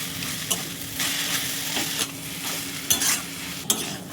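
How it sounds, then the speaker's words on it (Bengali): Grated boiled potato is mixed with fried nuts and a little sugar in a bowl, a continuous close scraping and stirring with a few sharper knocks of the utensil, no talking. "এই সবগুলো উপকরণ খুব ভালো করে মিশিয়ে নিচ্ছি"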